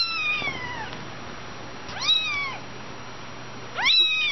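A cat meows three times, each call a drawn-out, clear, fairly close whine separated by pauses, with a faint steady hum in the background.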